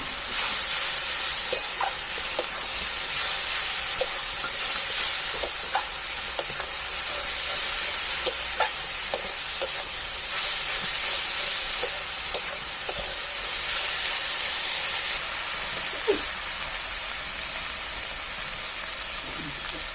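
Ginger-garlic paste frying in a pan for a pabda fish curry, a continuous bright sizzle over twenty seconds, punctuated by regular light taps and scrapes of stirring.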